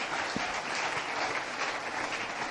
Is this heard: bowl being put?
no